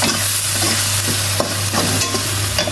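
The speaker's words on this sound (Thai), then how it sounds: "จากนั้นทำการผัดต่อไปนะครับ" Pork stir-frying with holy basil in a hot pan, a loud close sizzle under steady spatula scraping and tossing, with a low hum beneath and no speech.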